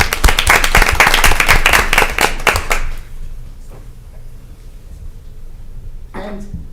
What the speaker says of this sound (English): I need another round of applause for that.